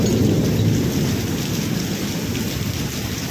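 Heavy rain pours down with rolling thunder, a dense, loud, continuous roar of rain with deep rumbling underneath and no voices.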